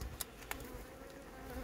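Honeybees hum steadily around a heavy, food-filled beehive frame during autumn wintering preparation, a close, continuous buzzing with a couple of brief louder passes.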